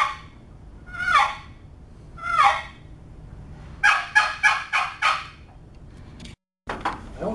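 A hunter's hand call imitating a turkey hen, sounded to bring in a gobbler that has hung up during spring hunting. Two spaced yelp sequences come first, then a rapid run of five or six loud, close notes, with no talking.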